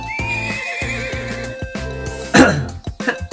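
A horse in the video game Trails of Cold Steel gives a loud, close neigh over looping game music, with brief hoof clip-clops and a short cough-like burst near the end.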